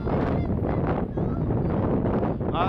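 Loud, steady wind buffets the microphone on a beach at Assateague Island in March, a continuous roaring rumble with gusty swells that never lets up.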